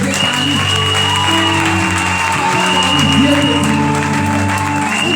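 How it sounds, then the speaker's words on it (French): Church congregation at a night prayer service applauding and acclaiming, a loud sustained wash of clapping and cheering under continuous music with held tones. "J'aimerais qu'on acclame le Seigneur pour notre Dieu."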